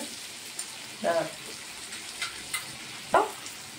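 Spices fry in a pan with a soft, steady sizzle, broken by a few louder spatters and clinks from a utensil close by. A voice speaks faintly in the background.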